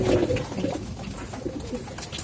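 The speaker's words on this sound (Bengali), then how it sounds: "মাদি কবুতরগুলো সবগুলোই নামছে ট্রের মধ্যে খাবার খাইতেছে" Female pigeons feeding from a tray during moulting coo softly and close by, a brief burst of low throaty calls over a little background rustle.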